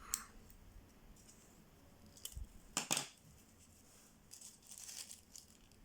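Scissors snip small paper flowers for a scrapbooking project, giving a few quiet, close cuts and a soft rustle of paper in an otherwise hushed room.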